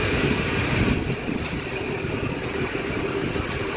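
A metro train at Shivajinagar metro station in Pune, heard as a steady, loud rail rumble with a broad roar that fills the whole stretch.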